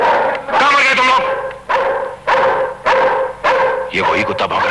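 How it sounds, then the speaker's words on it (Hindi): A dog in the 1990 Hindi film Halaat barks loudly and repeatedly, about five strong, drawn-out barks spaced roughly half a second apart, close and dominant. "वही है, बहुत देर से भौंक रहा है।"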